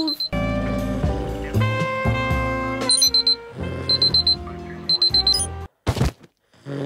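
A video-game alarm clock in Roblox Bloxburg rings loudly with a melodic electronic chime and repeated high beeping bursts, then cuts off into brief silence before a final short burst.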